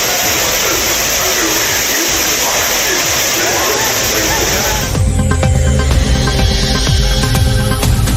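Courtallam waterfall roars loudly and steadily as tourists bathe in it on New Year's Day, a dense rushing wash with crowd noise mixed in, and the scene cuts abruptly to a different, clattering sound partway through.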